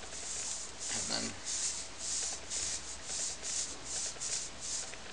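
Scotch-Brite pad scrubbing a diesel engine piston from a Perkins M20 diesel motor rebuild, a steady rhythm of about ten close, hissing rubbing strokes in a row, with a short burst of speech partway through.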